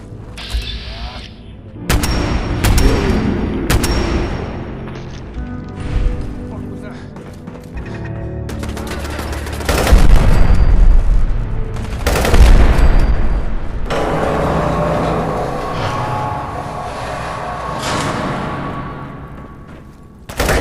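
Repeated gunfire bursts and booms from the video game Fallout 4, loud and close, mixed with other dense game combat noise and spoken voices over roughly twenty seconds.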